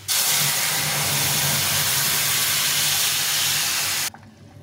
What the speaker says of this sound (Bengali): এখন এই ডিমের ঝোলটা ঢেলে দিই।